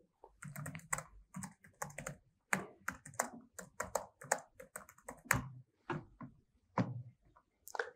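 Someone types a prompt on a computer keyboard in close, steady bursts of keystrokes with brief pauses between words, loud and clear with no talking over them.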